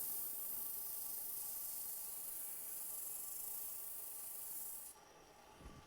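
Sandpaper rubs against spinning wood on a lathe, a steady close hiss with a faint motor hum beneath, ending abruptly near the end as the contact stops.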